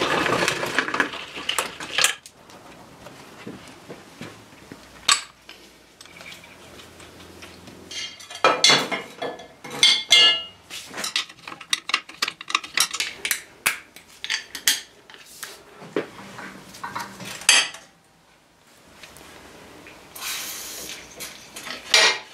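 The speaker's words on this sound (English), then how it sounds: "It is worn out anyway, so I'm just going to cut it off, chuck it in the bin" A worn Suzuki Busa motorcycle chain being cut off and handled in a garage, with bursts of metallic clinking and rattling of links, scattered clanks and brief quiet gaps, close and fairly loud with no talk.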